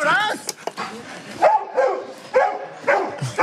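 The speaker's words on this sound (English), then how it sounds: "Whose dog is that?" A dog gives several yipping, whimpering barks in short bursts, close and loud, mixed with voices talking around it.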